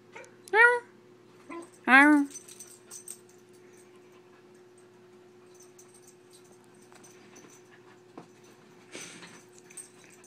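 A small dog gives two short, high whimpering yelps early on at close range, then falls quiet except for faint household noise and a brief soft sound near the end.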